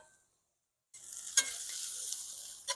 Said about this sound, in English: Let's give these potatoes a little flip here